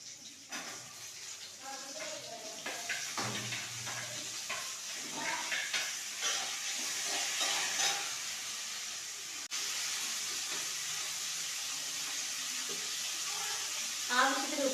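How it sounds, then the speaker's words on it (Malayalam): Garlic, chili, onion and tomato fry in a pan for a soya prawn dish, making a quiet, ongoing sizzle and hiss mixed with intermittent clattering stirring. "മുളക്, സവാള, തക്കാളി ഇത്രയും സന്നദ്ധത്തിലേക്ക് ഇട്ട് കൊടുക്കാം."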